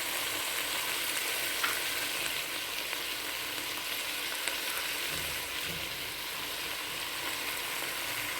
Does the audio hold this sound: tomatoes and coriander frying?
yes